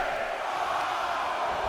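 Arena crowd noise in the wrestling video game WWE 2K24 during a women's WarGames match, a dense steady roar of many voices that holds level and fairly loud throughout, with no clear individual words.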